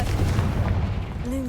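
Confringo blast spell in Hogwarts Legacy: a deep, booming, rumbling explosion that fills the whole moment, heavy low-end roar fading out as a faint tonal hum rises at the end.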